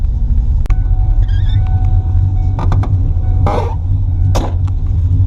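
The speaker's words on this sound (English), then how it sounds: "gonna go ahead and let this warm up, do a little bit of driving" A Ford Mustang engine warms up at idle, a loud steady low rumble throughout with a few scattered clicks and creaks on top and no talking.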